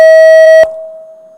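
A quiz contest answer buzzer at a school semi-final sounds a loud, steady electronic tone for over half a second, then cuts off abruptly and leaves a lingering ring.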